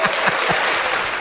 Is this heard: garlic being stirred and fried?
no